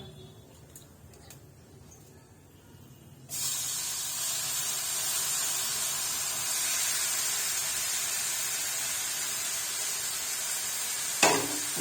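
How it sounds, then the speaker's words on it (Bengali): Grated beetroot and carrot dropped into a hot pan of fried five-spice tempering: a quiet start, then a sudden loud hissing sizzle that holds steady, with a brief scrape of stirring near the end. "আমি এবার এতে দিয়ে দিচ্ছি গ্রেট করে রাখা বিট গাজরটা।"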